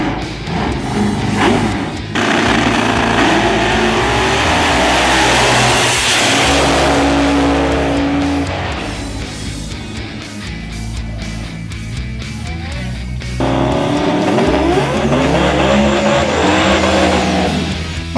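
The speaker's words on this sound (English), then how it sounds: "I drive a 1936 five-window coupe called the Witch Doctor." A roots-blown 540-inch big block Chevrolet in a 1936 five-window coupe drag car roars at a dragway, loud sustained engine revving and acceleration with tire noise, a continuous racing blare running the whole length.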